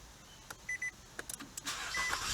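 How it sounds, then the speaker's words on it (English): A push-button start car fires up, using the key held against the start button. A few beeps and clicks come first, then the engine cranks and catches into a steady idle, faint and close. "you can start your car pressing your key into the button"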